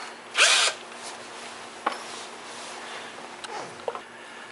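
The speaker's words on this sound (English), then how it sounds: "I'm going to change my drill bit." Cordless power drill in a workshop, run while its bit is being swapped during PVC flute making: one brief loud whir, followed by faint clicks and taps.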